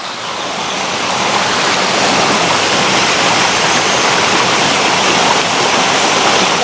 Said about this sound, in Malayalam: മുകളിലേക്ക് കൊണ്ട് വെള്ളച്ചാട്ടം വരുന്നുണ്ട്